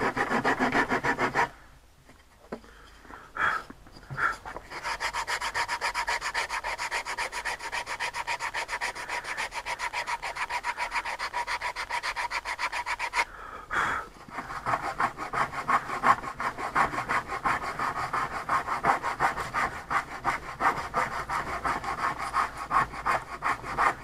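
Sanding and rasping on a wooden plug for a radio-controlled model cockpit canopy, a steady close scratchy rubbing that runs almost continuously, with a brief pause early on and another near the middle.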